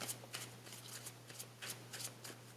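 Tarot cards shuffled and drawn by hand for a reading, giving soft papery riffles and flicks in a quick uneven run of bursts over a low steady hum, close and fairly quiet.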